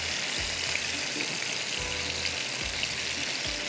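Oil poured into a pan of spicy rice in tarka raises a steady, broadband sizzle. Soft low thumps recur under it, with no talk.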